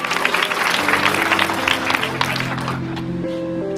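Loud applause from a church congregation during a sermon, a dense burst of clapping that fades as a sustained musical tone carries on underneath.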